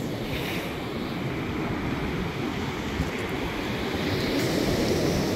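Gentle sea waves wash steadily onto the shore at Arkhipo-Osipovka on the Black Sea coast in March, a constant, moderately loud surf wash with light wind across the microphone and no talk.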